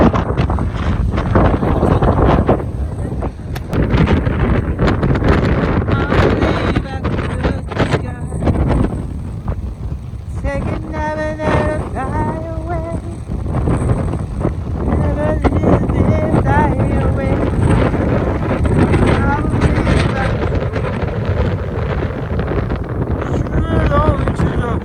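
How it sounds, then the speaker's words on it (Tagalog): Strong wind buffets the microphone with heavy rumbling gusts almost throughout at an abandoned resort, while people talk and shout loosely underneath. "Sa sobrang hangin, tumutulo si Pungko."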